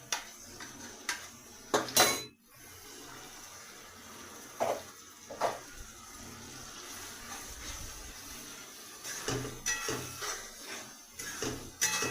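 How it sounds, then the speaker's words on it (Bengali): Paste of ground cumin, chilli and ginger going into fried onions in a pan for a banana-flower curry, heard as scattered clinks and scrapes of a utensil on cookware against quiet kitchen background, with no talk. "এবার আমি ওর মধ্যে আগের থেকে জিরে যেগুলো বেটে রেখেছিলাম লঙ্কা আদা ওগুলো আমি দিয়ে দিচ্ছি"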